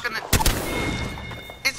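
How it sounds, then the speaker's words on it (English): A single heavy blast from the Mastiff shotgun in Apex Legends, sharp and loud, then a fading tail under game ambience, with a second softer report near the end. "The Mastiff is the best shotgun in the game!"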